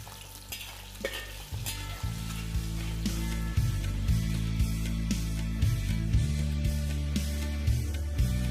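Steady frying sizzle of eggs in oil in a pan, with scraping and stirring knocks recurring throughout, fairly close and even in loudness.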